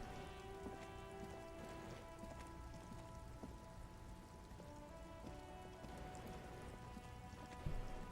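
Rain ambience from the video game Disco Elysium The Final Cut, set in a traffic jam: a steady, soft hiss of rain on surfaces throughout, with faint sustained tones underneath and no talking.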